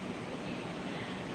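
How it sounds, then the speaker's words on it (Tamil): Strong wind blowing outdoors, a dense, steady roar of rushing air and microphone buffeting that fills the brief moment without a break. "காற்று தான் சரியான காற்றடிக்குது."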